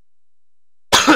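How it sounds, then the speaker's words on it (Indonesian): Near silence, then one sharp, close cough bursts out near the end. "Aduh, batuk pula."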